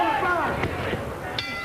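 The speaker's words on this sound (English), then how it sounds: "Bell. There you go." A boxing ring bell rings at a heavyweight bout, with two short metallic dings under steady crowd noise and a commentator's voice.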